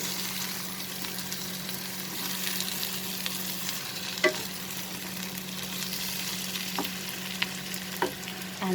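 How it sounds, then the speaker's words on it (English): Bitter gourd and potato curry mixed with lemon juice in a sizzling pan, a steady frying hiss under the stirring, broken by a few sharp spoon clicks against the pan. "Just mix it."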